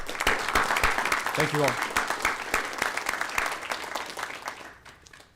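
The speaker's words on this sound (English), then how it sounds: "So join me in a round of applause, please." An audience at a state criminal justice and school district board of trustees meeting claps in a steady round of applause that fades toward the end, while a voice speaks briefly over it.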